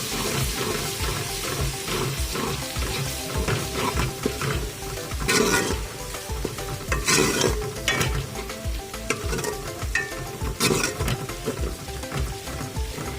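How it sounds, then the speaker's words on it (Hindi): Ginger garlic paste fries in a pan while cooking aloo phaliyan and chicken keema, giving a steady close sizzle with frequent stirring scrapes and clinks throughout, and no voices. "दो से 3 मिनट तक हम अदरक लहसुन के पेस्ट को फ्राई करेंगे।"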